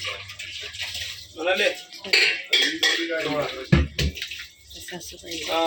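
Pots and dishes clatter and clink as they are set out in a home kitchen before making bhakri, with water running and a voice talking in the background over the clanking.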